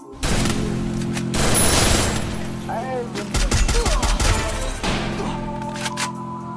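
Bursts of rapid gunfire in a battle royale video game ring out in loud clusters, with a sustained mechanical drone underneath and shouted talk mixed in.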